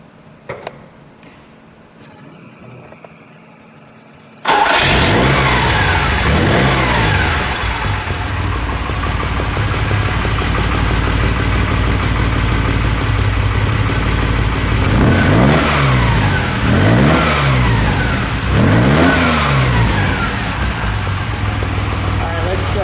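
A yellow 1970 Ferrari Dino 246 GT L-Series cranks and fires after a few quiet seconds with brief talk, then runs loud and steady, with repeated sharp throttle blips rising and falling near the end.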